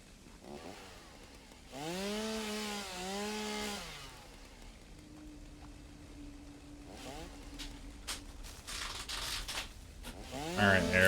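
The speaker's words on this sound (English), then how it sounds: "Some holdover from some other game makes me keep pressing forward to take out my chainsaw." A chainsaw cutting trees in the video game Satisfactory revs up in a rising, wavering whine for a couple of seconds, then settles into a lower steady drone with a few sharp bursts near the end.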